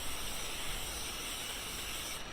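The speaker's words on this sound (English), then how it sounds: "cooking spray" A steady, close hiss of spray from an aerosol can of cooking spray, outdoors at a camp, lasting a couple of seconds before cutting off.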